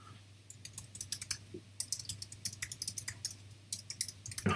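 Computer keyboard typing in steady bursts of quick keystrokes over a low constant hum, close and fairly quiet, while a booking reason is entered into an online appointment form.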